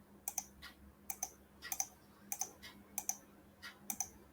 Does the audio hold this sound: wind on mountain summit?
no